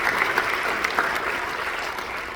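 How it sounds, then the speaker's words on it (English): Audience applause at a political campaign event, a steady wash of many hands clapping throughout, moderately loud and close, with scattered sharper claps standing out. "let's stand and give everybody a huge round of applause"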